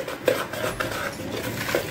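Spices being crushed and mixed in a bowl with a utensil, rapid clattering scrapes and small clinks close up, with two sharper knocks against the bowl and no voices.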